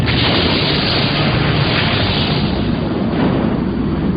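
Bombs exploding on target in a wartime air raid, a loud, continuous roaring rumble of blasts with no pauses.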